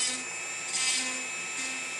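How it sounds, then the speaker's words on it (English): Electric nail drill buffing out the smile line of an acrylic or gel nail during a backfill: a steady high-pitched whine with light grinding pulses, close and moderately quiet, no talking. "So drill out your smile line and then bevel out the white just to thin it out a little bit."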